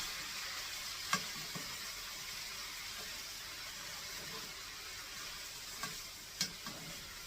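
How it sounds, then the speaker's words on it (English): A breakfast mixture fries and sizzles steadily in a pan, a continuous crackling hiss with a few sharp clinks of stirring, close and alone. "So now I'm just going to get that fried together."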